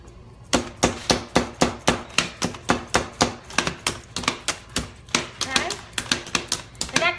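Manual press food chopper pounding cauliflower into a fine chop, about two dozen sharp rhythmic clacks in steady succession, close and loud, with faint talk underneath.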